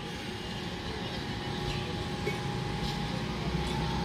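Bandel–Naihati down local train rolling toward Hooghly Ghat railway station, a steady broadband rumble of wheels and carriages that holds at an even level throughout, with no pauses.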